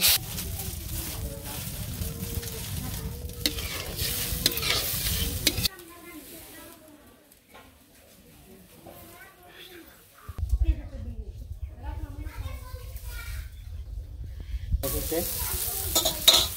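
Home-grown vegetables stirred and sautéed in a pan, giving a steady sizzle with scraping stirs that fade to a quieter stretch before the frying noise returns loudly.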